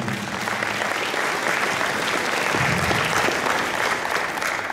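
An indoor audience claps warmly and continuously at a jubilee ceremony marking forty years of Pakosław commune, a dense, even applause that holds steady throughout.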